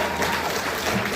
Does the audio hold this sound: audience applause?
yes